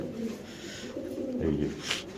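Pigeons coo close by in soft, throaty repeated calls, with a faint chirp near the end over light background noise.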